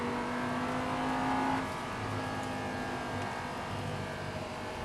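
An Audi R8 GT accelerating hard on a race track, its engine note a steady loud roar that holds throughout with no pauses.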